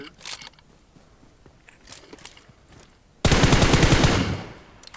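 Rapid automatic gunfire in the mobile shooter PUBG Mobile erupts as a loud, dense burst lasting about a second, following quieter in-game clicks and ambient sounds.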